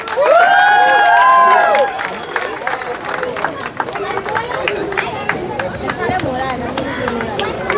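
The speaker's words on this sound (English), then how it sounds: "Big round of applause for Adil." An audience at an Independence Day award ceremony applauds a recipient with steady dense clapping, mixed with crowd cheering and a loud shouted voice at the start, the hall babble continuing beneath.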